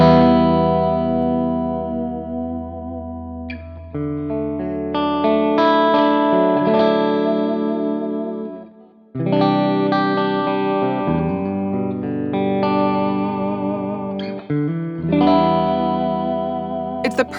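Electric guitar played through a UAFX Lion 68 Super L amp pedal set to its 100-watt super bass mode, ringing sustained chords and phrases, loud and saturated with a slight chorus shimmer, separated by short pauses, with no talking.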